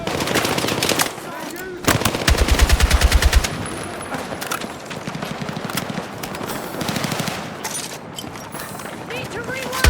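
Bursts of machine gun fire in the Battlefield 6 campaign during an urban assault, a loud rapid rattling run followed by scattered shots and battle noise, with soldiers shouting over the gunfire.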